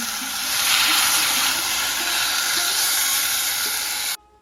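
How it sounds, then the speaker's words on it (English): Onions sauté in a hot pan for a Japanese soup base, giving a loud, steady sizzling hiss that holds evenly for about four seconds and then cuts off abruptly. "Next, saute the onions quickly."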